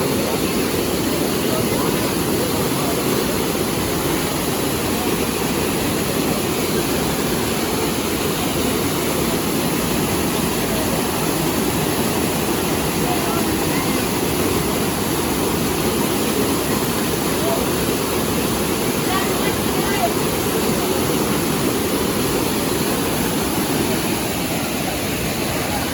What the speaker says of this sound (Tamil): இது 2வது வாட்டர் ஃபால்ஸுங்க